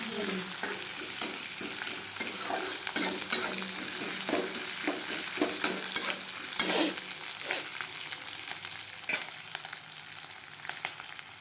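Steady sizzling of cumin seeds frying in a pan, broken by repeated scraping and clinking strokes of a spoon stirring at an uneven rhythm; no talking.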